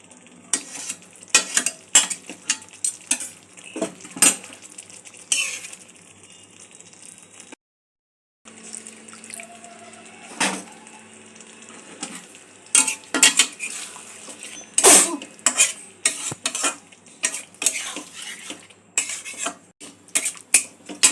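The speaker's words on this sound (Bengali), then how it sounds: "সমস্ত উপকরণগুলো যাতে পনিরের ভেতর যায়, একটু হালকা হাতে নাড়াচাড়া করে নেব।" A spoon stirs creamy North Indian-style paneer in a pan over medium-low gas, its repeated clinks and scrapes against the metal recurring through the stretch with a faint sizzle underneath, broken by one short pause.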